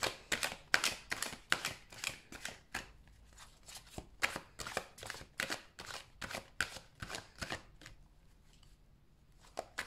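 Tarot cards are shuffled and drawn in a quick run of crisp, papery riffles and flicks, close and fairly loud, with short pauses between bursts and no talking.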